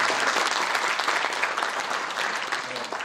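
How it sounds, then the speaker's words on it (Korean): An audience at a Korean policy conference on a national Fourth Industrial Revolution master plan applauds, producing dense, loud, continuous clapping that holds steady for the whole stretch. "박수 한번 쳐드리죠."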